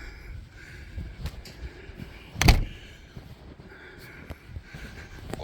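A door opens onto the outdoors during a major snowstorm in Illinois, with a sharp latch-and-swing thud midway through against a backdrop of wind noise and faint rustling movement.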